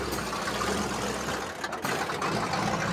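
V8 5.7-litre dirt stock car engine idling, a steady loud low rumble with a short dip in the middle, heard close and alone without talk.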